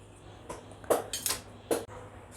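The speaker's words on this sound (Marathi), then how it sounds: "याला कट करायसाठी एखादा शार्प तुम्ही असा चाकू वापरा जेणेकरून ते व्यवस्थित कट होणार" Sharp knife slicing through a dough of potato and flour, with a few distinct crisp cuts and taps against a board at close range, spaced irregularly with no voices.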